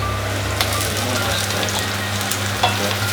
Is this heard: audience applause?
no